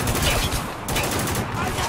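Gunfire from the Spec Ops: The Line video game, dense bursts of shots and impacts running continuously at close range with a voice talking faintly underneath.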